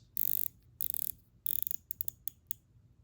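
The ratcheting bezel of an Invicta Pro Diver dive watch is turned in quick bursts of crisp, close, positive clicks, with a few single clicks between the runs.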